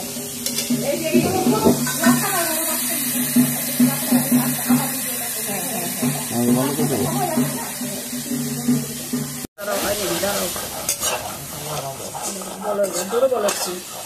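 Steady, close sizzling hiss from a hot pan of frying shrimp and pointed gourd after water goes in, with metal utensils clinking and scraping against the pan while people talk over it throughout.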